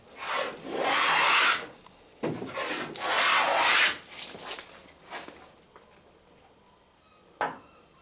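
A hand plane shaves a bevel on a timber plank of a small clinker-built boat, giving two long rasping strokes followed by shorter scrapes and a light knock, close and clear with no talk.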